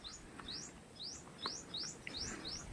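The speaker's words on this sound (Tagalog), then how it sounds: "sunbird." A small sunbird calling on a mountain trail at Mount Batulao: a series of about six thin, high, rising chirps repeated in a quick even rhythm, fairly faint against quiet outdoor background.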